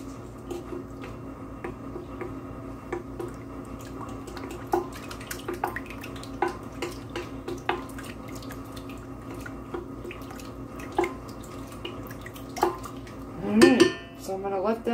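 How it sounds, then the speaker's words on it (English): A spoon stirs yeast and brown sugar in a bowl with light, scattered clinks and scrapes against the sides, close by over a faint hum, ending in a brief louder clatter. "So I'm stirring it right now."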